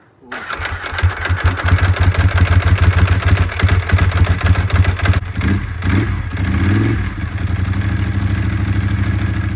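A Ducati motorcycle fires up on its first start after a timing belt change, then settles into a loud, steady, throbbing idle that runs close and continuous, with a few faint voices underneath.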